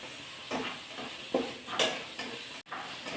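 Chicken chilli with chilli powder is stirred in a pan, a few soft scraping strokes over a faint sizzle, close but quiet, spaced roughly a second apart.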